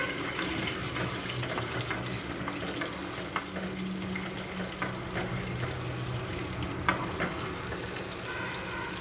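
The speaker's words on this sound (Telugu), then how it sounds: "తాలింపు గింజలు వేగాకేద్దాము" Tempering seeds frying in hot oil in a pan while cooking raw tamarind chutney, giving a steady, dense sizzle throughout with scattered small pops and crackles and no talking.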